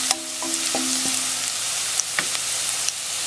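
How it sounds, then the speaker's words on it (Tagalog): Garlic frying in a pan, a steady bright sizzle with a few clinks of utensil against metal early and some scattered pops, no talk. "hintayin natin mag-brown yung garlic"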